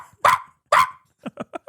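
A person imitates a small dog's barking in a voice message: two loud, sharp barks followed by four quicker, softer yips, close and dry with no other talk.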